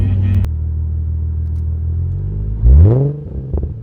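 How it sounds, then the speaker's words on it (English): A Nissan 350Z with a VQ engine and Tanabe Medallion exhaust idles with a deep, steady burble, then gives one sharp rev that rises and falls back to idle, loud and close. "We have the Tanabe medallion exhaust in the back. Just the sweetest exhaust for this VQ."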